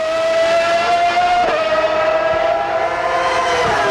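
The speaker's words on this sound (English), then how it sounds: "Listen to that note of that car." A Ferrari Formula 1 car at the 1994 Italian Grand Prix at Monza gives a loud, sustained, high-pitched engine wail that holds steady and then drops slightly in pitch, with no one talking over it.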